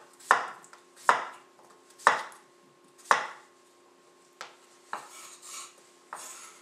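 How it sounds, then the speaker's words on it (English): Knife roughly chopping a peeled potato on a cutting board, four evenly spaced firm chops followed by a few lighter cuts and scraping, close and clear with no talk. "Now we're just going to rough chop it."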